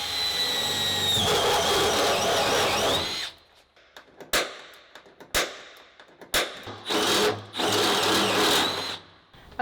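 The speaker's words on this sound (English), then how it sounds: "we went ahead and drilled out these holes" A drill fitted with a 25/64 bit opens holes for rivet nuts during a Ford Transit high-roof van A-frame installation: a loud, steady whine for three seconds, then several short bursts of drilling with pauses between.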